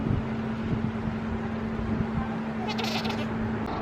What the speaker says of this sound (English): if you look up here on the roof, there's a goat